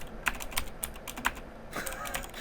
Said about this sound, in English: that keyboard is really freaking hard to type on